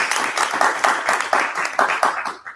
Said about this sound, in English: Let's give Harriette a clap.